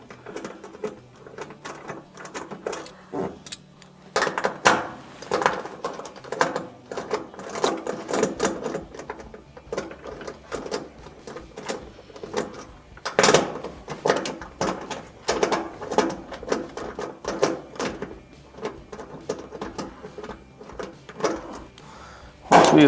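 A socket wrench loosens screws on an electric range terminal block, giving a long run of quick ratcheting clicks and metallic rattles, close and continuous with brief pauses and no talking.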